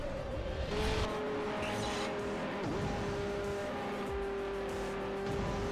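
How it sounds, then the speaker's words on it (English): A lower-revving V10 car engine in the Hot Wheels World Race video game drones steadily and loudly, its pitch rising and dipping with gear changes, with tire squeal and other racing cars audible throughout. "that lower revving V10 sounds"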